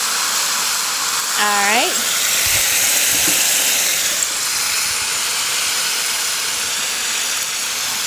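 An enchilada sauce meal with cheese sizzles and fries steadily on a camp stove, a close continuous hiss with a few stirring clinks while a person speaks briefly.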